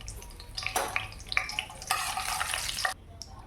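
Cumin seeds dropped into hot oil in a pan for lemon pickle crackle and sizzle up close, rising into a dense hiss before cutting off abruptly, with a few soft clinks and no speech.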